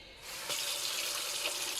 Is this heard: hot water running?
yes